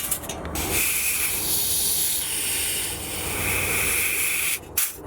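Helium hisses steadily from a hose into a car tire, a loud close broadband rush that holds for several seconds, briefly breaks at the start, and cuts off near the end before a short final burst.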